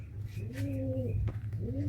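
Andhra and Madrasi high-flying pigeons cooing in a loft, two clear rising-and-falling coos near the mic over a constant low hum, with a faint chirp between.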